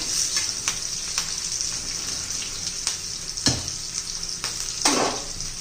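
Garlic frying in oil with salt for a fenugreek vegetable dish, a continuous close sizzle broken by a few scraping stirs and clinks, no voices.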